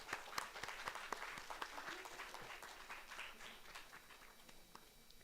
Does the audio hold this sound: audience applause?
yes